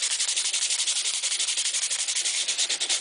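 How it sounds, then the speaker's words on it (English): A metal cowbell being sanded by hand with 100 and 150 grit sandpaper, a fast rhythmic scraping with short even back-and-forth strokes, close and steady throughout. "I'm using 100 grit sandpaper and 150 grit right now."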